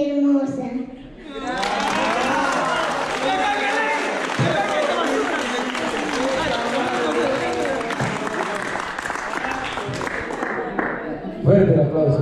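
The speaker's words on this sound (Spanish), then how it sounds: "Fuerte el aplauso, bueno, ya le dieron un aplauso" A room of guests at a 50th birthday party breaks into steady applause and cheering that carries on for several seconds, with voices talking and calling out over the clapping.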